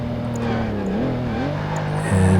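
A Jaguar E-Type engine drones steadily while driving through a British town in Project Gotham Racing 2, its pitch dipping and rising through gear changes before swelling louder near the end.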